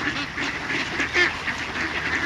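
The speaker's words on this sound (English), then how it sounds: "I'm feeding the ducks at the wildlife sanctuary." Ducks at a wildlife sanctuary quacking close by, a busy flock giving repeated overlapping nasal calls in quick succession.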